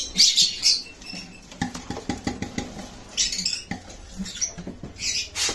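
Pigeons released from a loft in a pigeon-breeding setting, with bursts of wing flapping and fluttering, scratchy scuffling and clattering, some soft bird sounds, close by and uneven in rhythm.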